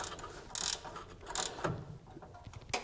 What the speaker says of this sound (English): let's tighten up these two 9/16 bolts on each end.